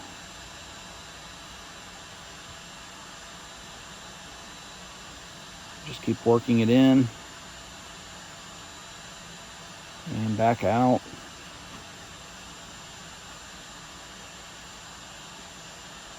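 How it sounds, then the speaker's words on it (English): A steady, faint whooshing drone of a vacuum running while a rotating brush cleans a dryer vent continues throughout, with a person speaking briefly twice over it. "start rotating with the vacuum running again, and push more of the brush into the dryer vent"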